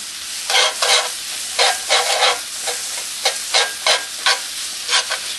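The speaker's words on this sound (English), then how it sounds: "there goes my tomato paste" Tomato paste being stirred into a sizzling pan of onion and garlic, loud bursts of frying hiss coming in rhythmic pulses as the spoon scrapes and moves it around.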